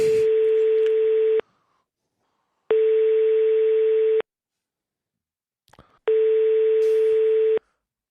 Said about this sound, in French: On l'appelle, allez, on l'appelle.